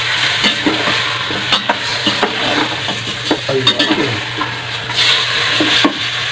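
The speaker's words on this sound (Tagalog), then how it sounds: "Haluin ng maigi." Chicken sopas is stirred in a pot, a utensil scraping and clinking against the metal in an irregular rhythm over a steady low simmer, close and fairly loud with no talking.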